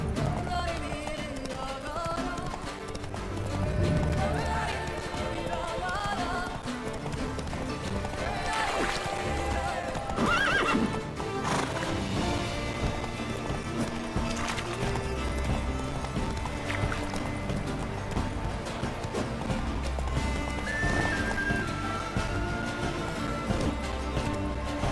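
Hoofbeats of a galloping horse in The Witcher 3 pound under game music and ambience, with a brief whinny, steady and moderately loud throughout.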